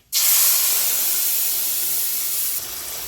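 Prepared spice paste hits hot oil in a pan for a fish curry with a sudden loud hiss. It holds as a steady, bright sizzle and eases slightly near the end.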